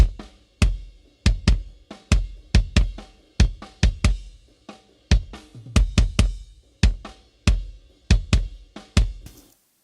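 Metal-style drum mix processed with the Drum Leveler plugin, kick, snare and cymbals hitting in a driving pattern with more even, consistent punch across the hits, no talking.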